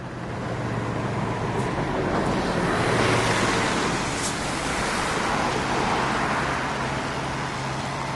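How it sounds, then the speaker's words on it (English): A stream runs beside a construction site entrance for a new football stadium in Aberdeen, a broad steady rush of flowing water blended with wind buffeting the microphone and faint road traffic, no voices. "Next to it there's a stream"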